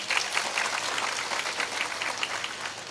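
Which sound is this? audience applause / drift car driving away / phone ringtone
audience applause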